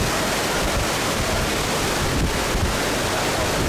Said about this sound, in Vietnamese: bây giờ nước chảy kiểu này nè, và chúng ta hãy xem chiếc ghe này chuẩn bị nhảy sóng nha các bạn